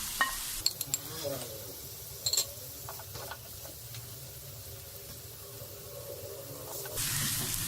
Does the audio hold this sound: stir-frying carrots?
yes